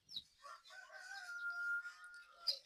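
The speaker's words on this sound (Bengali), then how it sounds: "টাইগার মুরগির বাচ্চা বোর্ডিং চলতেছে।" Tiger chicken chicks in a brooding house of about 500 birds, a faint chorus of high chirps and peeps with one sustained call in the middle, quiet and close with no talk.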